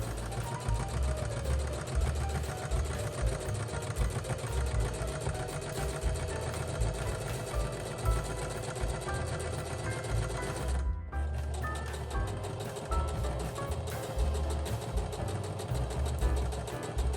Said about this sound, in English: We want to top stitch it really close to the edges.